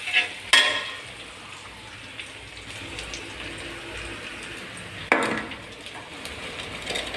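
A utensil stirs noodles with salt in a pan, scraping and knocking against the metal with two sharp clanks among soft, steady sizzling and shuffling; no one speaks.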